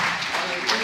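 A church congregation claps together during a Portuguese-language worship service, a dense, continuous patter of many hands with a swell near the end, mixed with voices.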